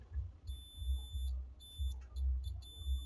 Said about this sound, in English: It'll beep if we have a dead short in here.